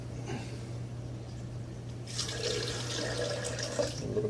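Water pours into a blender from about halfway through, a steady splashing stream over a low background hum.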